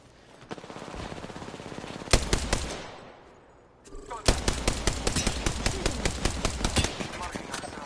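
Rapid automatic gunfire from Apex Legends rattles in two long bursts separated by a brief lull, loud and close, with the first burst fading out before the second starts.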